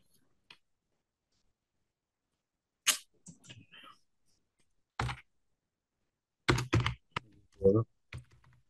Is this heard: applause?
no